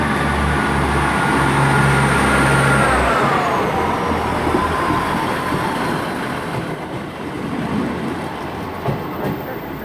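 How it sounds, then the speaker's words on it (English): Two-carriage diesel train 158767 pulls away from Cheltenham Spa station towards the sidings, a loud engine drone and rumbling wheels that shift in pitch and slowly fade as it leaves. "Definitely departing to sidings now, 158767, reformed back to its two carriage original formation."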